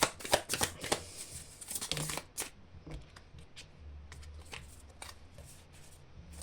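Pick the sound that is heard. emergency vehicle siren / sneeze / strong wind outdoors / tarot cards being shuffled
tarot cards being shuffled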